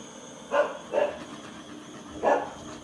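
A dog barks three times from out in a hallway, two quick sharp barks followed by a single bark after a pause, somewhat distant and muffled over a faint steady hum.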